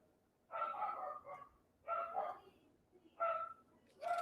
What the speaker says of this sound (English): Here's Zeke barking.